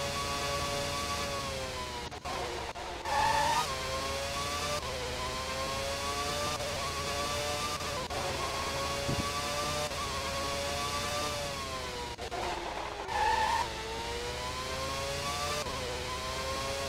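A Formula 1 car in the PS1 racing game Formula 1 Championship Edition, at the Australian Grand Prix, accelerates hard with a loud, continuous engine whine whose pitch climbs and drops through gear changes, up close and without talk.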